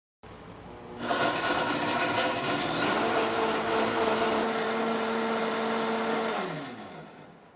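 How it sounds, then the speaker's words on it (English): A blender with a sound enclosure starts up making a smoothie and runs loud and steady for several seconds, its pitch shifting slightly as it churns, then winds down near the end. "We'll close the sound enclosure, and everything gets blended on one."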